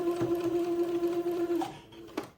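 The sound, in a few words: sewing machine straight-stitching a ribbon casing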